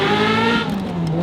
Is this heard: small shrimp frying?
no